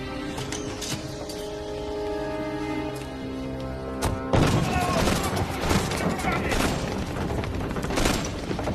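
Gunfire breaks out during a film scene of an attack on the Cuban embassy. Loud shots and booms crackle densely after a tense sustained musical passage, with rattling bursts that continue to the end.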